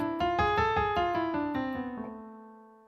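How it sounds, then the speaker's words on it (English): A harmonic minor scale plays as a quick run of about eight clear pitched notes, evenly spaced and climbing, with the last note left ringing and fading out alone. "That's the sound of a harmonic minor scale."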